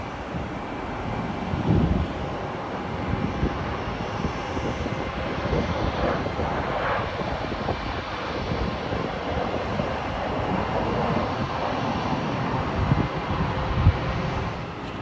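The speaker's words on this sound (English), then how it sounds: "KLM's Boeing 737. Arriving at Heathrow from Amsterdam." KLM Boeing 737 arriving at London Heathrow from Amsterdam, a moderate, steady jet engine rumble mixed with wind buffeting on the microphone, heard alone without voices.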